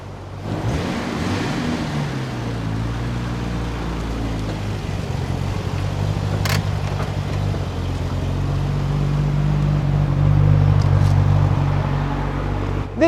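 Tuned RB26DETT engine, about 400 horsepower with Nismo cams, breathing through a Fujitsubo front pipe, Sard catalyst and HKS Super Turbo rear muffler; a steady deep idle rumble, close and continuous, swelling slightly near the end.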